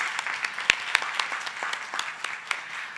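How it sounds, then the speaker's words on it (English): Audience applause at a conference keynote, steady clapping from a crowd with a few sharp, close individual claps standing out, continuing for about three seconds. "May I get another round of applause for Guillermo?"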